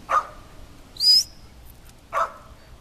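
A puppy gives three short, separate barks at about one-second gaps, nearby and moderately loud in an otherwise quiet space, with no talking.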